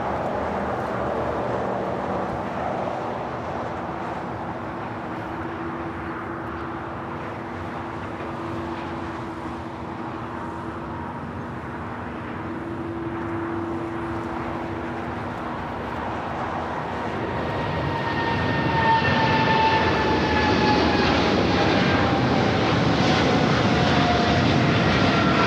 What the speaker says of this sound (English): And that is China Airlines Cargo 5382 taking off to Miami, Florida on the 777 freighter.